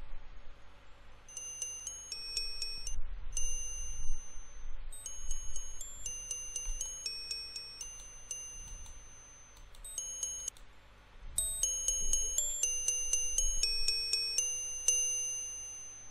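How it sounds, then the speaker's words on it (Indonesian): Bright bell chimes from the EduGAME Kiki Kelinci dan Peri Ceria video game ring in repeated clusters of high, clear tones over a low rumbling background, with brief gaps between groups and no talking. "Sekarang kita lanjutkan mendengarkan suara lonceng berikutnya."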